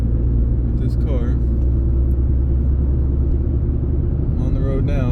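A car cruises on the road with a constant low engine drone and tire rumble, faint voices briefly audible over it.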